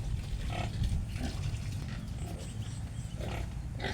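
Pigs in pens on a pig farm grunt and snort continuously, a dense steady chorus of low grunts from several animals at moderate distance, with no talking.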